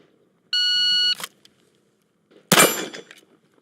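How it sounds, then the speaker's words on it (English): A pistol slide snaps forward with a sharp metallic clack when its slide release lever is pressed, coming after a steady electronic beep and followed by a brief rattling tail, close and fairly loud. "you either need to do release the slide with your hand, or you can press the slide release lever here"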